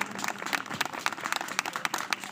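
Dense, steady applause from a crowd at a village Ramlila performance in Jakh, with many overlapping claps carrying on at an even level without a break.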